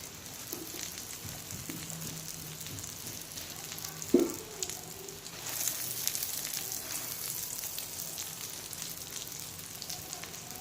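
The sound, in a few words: egg cheese roll frying in a pan on low heat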